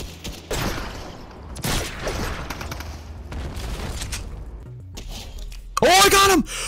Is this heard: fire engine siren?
no